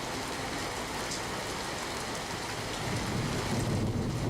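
Rain falling over Ahmedabad streets such as SG Highway and South Bopal, a steady dense hiss of rain on surfaces that swells louder toward the end.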